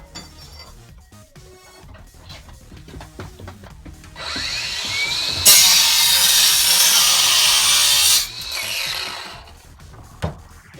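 A Hyper Tough 20V cordless angle grinder fitted with a grinding disc starts with some handling clatter. The motor whines up to speed, then harsh, loud grinding lasts about three seconds before it winds back down.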